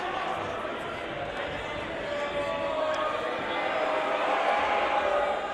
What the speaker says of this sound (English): Second free throw is no good, to the delight of the crowd.